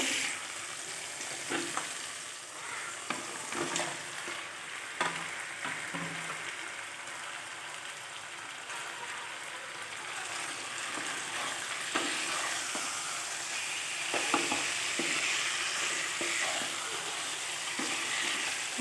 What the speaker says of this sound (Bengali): দিয়েছি আর ভালো করে মাংসটা কষিয়ে নেব মশলার সঙ্গে।